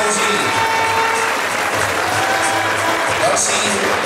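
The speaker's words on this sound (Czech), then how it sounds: "Velký potlesk" Dense, steady applause from a crowd at a tournament awards ceremony honouring player Daniel Drobák, continuous and fairly loud throughout with no clear pauses.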